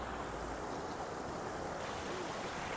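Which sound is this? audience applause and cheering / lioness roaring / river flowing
river flowing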